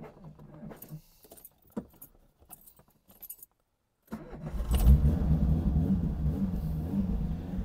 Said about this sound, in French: ça a parfaitement démarré la voiture